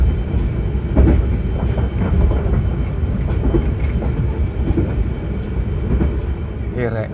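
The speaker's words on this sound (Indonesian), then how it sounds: "nggak taunya ini adalah kereta angkutan parcel" A parcel freight train rumbling past close by, steady heavy noise with faint clacking of wheels throughout.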